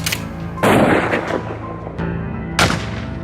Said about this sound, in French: À ce moment-là, on peut entendre les coups de fusil.